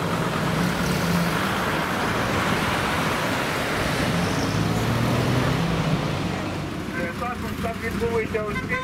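Cars moving again on the Kyiv-Kharkiv highway after a road blockade ends, a steady broad wash of traffic noise throughout, fairly loud and continuous, with voices faintly underneath.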